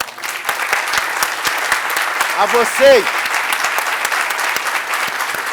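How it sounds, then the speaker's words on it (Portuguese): Audience applause at the closing speech of a real-estate law congress, steady dense clapping across the whole stretch, with a speaker's voice breaking in over it partway through. "ao agradecer os generosos aplausos, eu também aplaudi-los"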